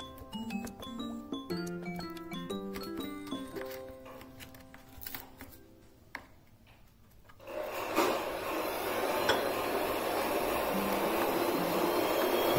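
A knife cuts through homemade kunafa, an Arabic sweet, with a continuous close rasping and crunching that follows a stretch of soft background music.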